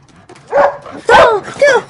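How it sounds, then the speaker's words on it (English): A pet dog named in an English-learning conversation scene gives three short, close whimpering yips in a row, each separated by a brief pause. "You let the dog in"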